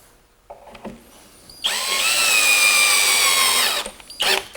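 Power drill driving a pocket hole screw into a wooden table board, with a few light handling knocks, then a loud whirring burst of about two seconds that stops sharply, followed by a short second buzz.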